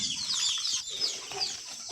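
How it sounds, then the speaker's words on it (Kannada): Chickens at a small poultry farm clucking and chattering steadily throughout, a dense flock sound at moderate distance with no talk. "ಈ ಕಡೆ ಕೋಳಿ ಫಾರ್ಮು ಇದು"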